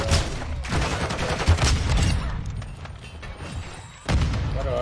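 Sniper rifle fire in a video game at close range, with loud gunshot bursts and booms repeating throughout amid rumbling game noise.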